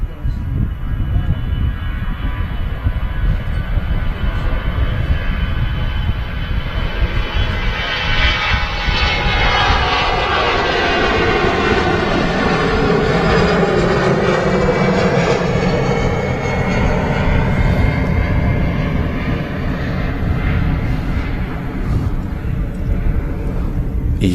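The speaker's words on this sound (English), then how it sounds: "EasyJets just departing there." An EasyJet airliner departs Manchester Airport with a loud, sustained jet roar that sweeps and shifts in pitch as it climbs away, steady throughout with no break.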